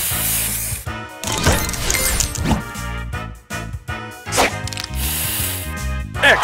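Spray booster effect in the Match Masters video game: a rapid series of whooshing sprays, clacks and crashing hits layered over game music, loud and continuous with repeated sharp bursts.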